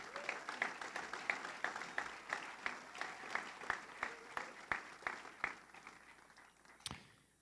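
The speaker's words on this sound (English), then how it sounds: "Let's give them a big round of applause" A small audience at a race meeting for an ultramarathon applauds its sponsors, a few sparse claps at first building into rhythmic, evenly spaced clapping that stops with one last sharp clap.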